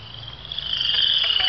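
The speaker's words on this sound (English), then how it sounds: "My cell phone is frogs and music." A cell phone ringtone made of frog croaks plays outdoors, a steady, fairly loud chirring croak with a bright electronic edge that grows slightly louder over its short span.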